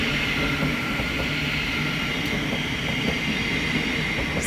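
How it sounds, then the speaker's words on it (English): A Thameslink Class 700 electric train rolls past on the East Coast Main Line at Welwyn Garden City, a steady, fairly close rumble with a rhythmic click of wheels over rail joints. "We're about to have a Thameslink Class 700 pass by from Peterborough to London King's Cross."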